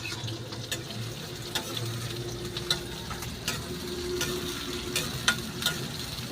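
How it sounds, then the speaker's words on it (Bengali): Onions and chili frying and being stirred in a pan, a steady sizzle with scattered scraping clicks of the spoon from close by, no talking. "নাড়াচাড়া করে নেবো। পেঁয়াজটা পুরো ঝাল উঠে গেছে একদম।"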